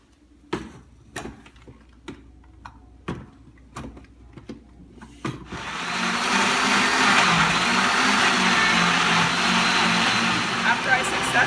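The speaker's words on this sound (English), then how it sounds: "After I successfully attached the blender, I've blended it." A kitchen blender purees tomato soup for a Mexican tomato soup, starting as a loud steady whir about halfway through, after several sharp taps and clicks while the blender is attached.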